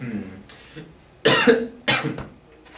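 Two loud, harsh coughs about half a second apart, close to the microphone, following a few quieter breathy sounds.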